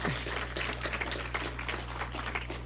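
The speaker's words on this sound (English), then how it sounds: "Can we give this great panel and Larry a nice round of applause?" Applause for a panel at an economic summit: a scattered round of clapping from the seated audience, fairly soft and even, with a steady low hum beneath it.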